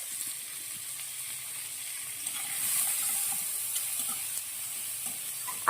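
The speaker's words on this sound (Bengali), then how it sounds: "পেঁয়াজটা ভেজে নিয়ে তারপর ফিরছি" Chopped onions frying in hot oil in a pan for a Bengali tengra fish paturi, giving a steady soft sizzle with a faint hiss that holds throughout, plus occasional light stirring scrapes and no talk.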